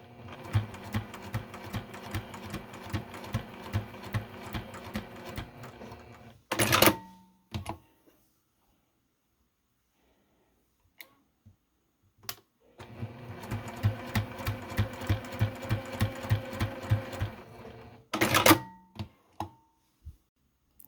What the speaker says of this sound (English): Now we're going to top stitch both long sides